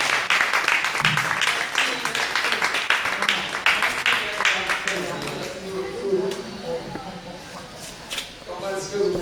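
Audience applause at an online-sales training session, dense clapping in the first half that thins out while a voice speaks over the fading patter toward the end.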